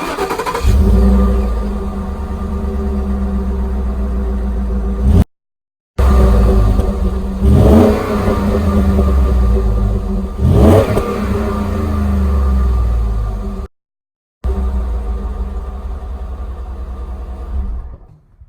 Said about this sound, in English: let's start up the truck and I'll let you know what it sounds like